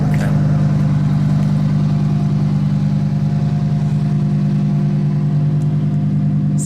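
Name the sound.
sports car stock exhaust idling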